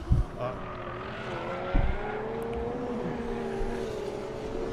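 A Toyota Supra A90 time attack race car at Circuit of the Americas, its engine droning with a rising and falling pitch as it slides through a corner, heard at a distance, with a couple of thumps and a commentator talking over it.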